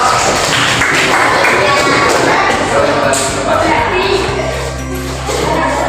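Classroom applause for a student group, a burst of loud clapping and tapping from many hands at once that tapers off after a few seconds.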